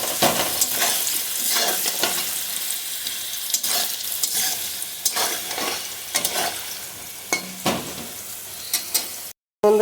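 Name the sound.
potatoes frying in pan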